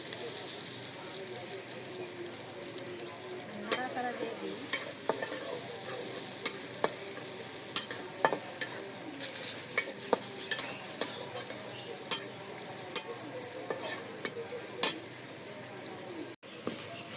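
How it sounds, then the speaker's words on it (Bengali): Meat frying in a pan with cardamom, cinnamon and salt, stirred with repeated sharp scrapes and clicks over a steady sizzle, fairly close and continuous. "মাংস রান্না করবো এলাচ দারচিনি সবই দিয়ে নুন দিয়ে দিই"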